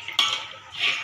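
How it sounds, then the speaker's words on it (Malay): Peanuts are stirred in a pot while peanut sauce is cooked, giving a sharp metal clink and then scraping and rustling against the pot. The sound is brief and close, with no talking. "Okey, teruskan kacau teruskan kacau kacang tersebut tadi"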